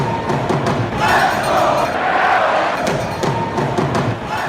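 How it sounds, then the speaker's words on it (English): Baseball stadium crowd at an MLB playoff game rising to its feet with loud, sustained cheering and roaring, steady and dense throughout with a swell in the middle, heard as a wide distant mass. "Crowd is coming to their feet."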